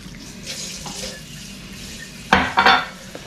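Water pours into a bowl of homemade Italian sausage mix with a short, close splashing burst after quiet kitchen background noise.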